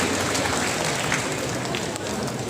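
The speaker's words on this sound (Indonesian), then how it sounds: "tepuk tangan untuk beliau" An audience at an official event in Gorontalo applauds a guest, with dense, steady clapping filling the whole stretch without a break.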